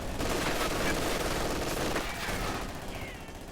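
An MG42 machine gun in a war video game fires in sustained rapid bursts, a dense continuous rattle that fades slightly toward the end.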